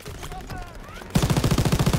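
A mounted MG fires rapid automatic bursts in the Call of Duty WWII D-Day campaign, a rattling stream of shots cutting in abruptly after a moment of muffled battlefield noise and shouting.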